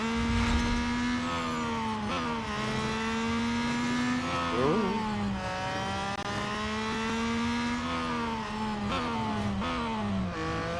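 A Peugeot 9X8 race car engine in Real Racing 3 drones loud and steady, rising and falling in pitch as it revs through corners and shifts gears, with no voices over it.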